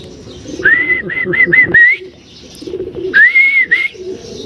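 A racing pigeon coos in soft, repeated phrases after landing on a roof, with two bursts of calls separated by a pause over a low background rumble.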